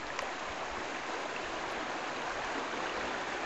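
The Car River flows past in a steady, unbroken rush of water, soft and even throughout, with no voices.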